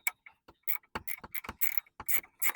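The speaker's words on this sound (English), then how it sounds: "we can put a ratcheting wrench so we can take off that nut quicker" A ratcheting wrench works the upper shock nut on a Toyota FJ Cruiser, giving close, sharp clicking bursts in quick irregular runs with short pauses between strokes.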